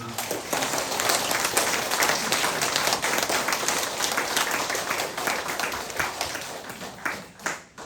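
A church congregation breaks into sustained applause, a dense wash of many overlapping claps that stays loud and steady before tapering off near the end.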